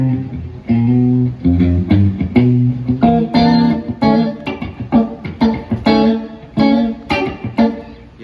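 An electric guitar on its fourth pickup position plays a bright, slightly funky chord pattern with clean, twangy strums and short rhythmic stabs, loud and close with no talking.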